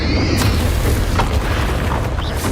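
A booming magical blast from the Bombarda spell during a dragon battle in Hogwarts Legacy, a loud sustained low rumble with layered crackling bursts filling the whole moment.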